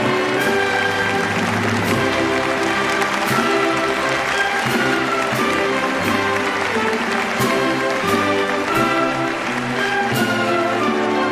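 A crowd applauds at length after the national anthem at a children's Mass, a steady, dense, continuous clapping with music or tonal sound running underneath it.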